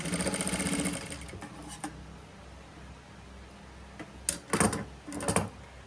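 Sewing machine stitching saree blouse neck pieces, a loud buzzing run at the start followed by a few short quieter bursts of stitching, with pauses between.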